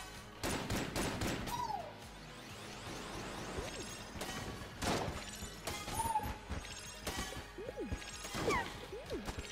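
Gunfire in the game Enter the Gungeon: rapid bursts of sharp shots, crashes and whooshing projectiles, with rising and falling synthetic tones scattered through, busy and steady at moderate level.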